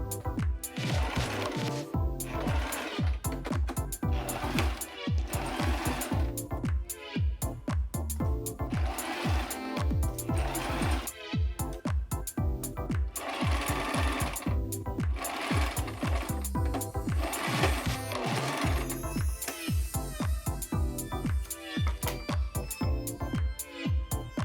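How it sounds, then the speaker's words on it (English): A sewing machine stitches pinned pieces of cloth for the ruffle of a skirt made from a refashioned men's shirt, giving a fast, rhythmic mechanical chatter in short, near bursts that repeat throughout. "I am now sewing the pieces of cloth I connected with pins a while ago for the ruffle part."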